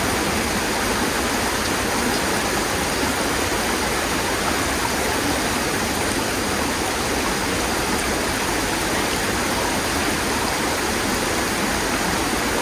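Water flows continuously and loudly at an orchard, a dense, even rushing like a stream or small waterfall close by, unbroken for the whole stretch with no talking.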